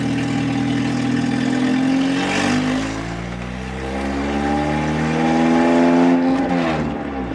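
A Mitsubishi Eclipse pulls through second gear, its engine droning steadily and rising in pitch as it accelerates, dipping briefly before climbing again, loud and close from inside the car.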